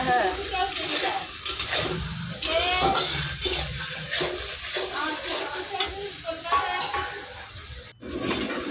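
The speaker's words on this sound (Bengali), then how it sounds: "গোটা জিরের পরে পেঁয়াজ, তেজপাতা, শুকনো লঙ্কা দিয়ে ভালো করে একটু কষিয়ে নিচ্ছে" Onion, bay leaf and dried red chili frying in oil after whole cumin for a fish and potato curry, a loud continuous sizzle with stirring scrapes throughout, close up and without talk.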